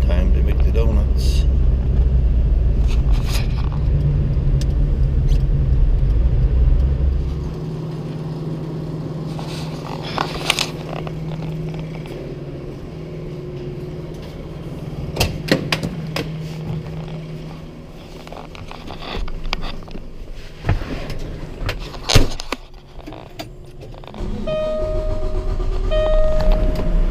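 Snow plow truck out on a salt and plowing run in falling snow, a steady low engine rumble with road noise and occasional scraping clunks, fairly loud and continuous, with talk over parts of it.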